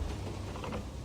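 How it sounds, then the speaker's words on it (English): Mechanical reload of the Object 704 tank gun in a tank video game: a short run of soft creaking, ratchet-like clicks and gear sounds, steady and close, with no voices. "He's reloading."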